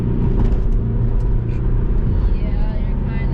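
A 200,000-mile Saab 9-5 with added sound deadening cruises and speeds up on a road, producing a steady low engine and tire rumble throughout, with people talking inside the cabin.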